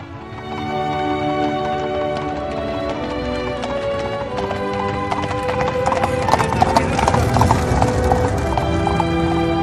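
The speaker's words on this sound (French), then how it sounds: "Allez les chevaux, en avant." Horses walk and pull a cart, their hooves clip-clopping in a steady rhythm that grows busier toward the end, with a neigh and people talking over it.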